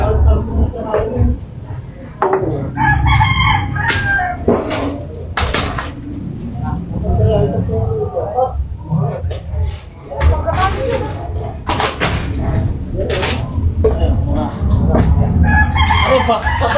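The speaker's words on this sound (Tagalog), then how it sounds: "Kaya may manok." A rooster crows and hens cluck outdoors in bursts between people talking nearby, the calls fairly close and loud with short quiet gaps.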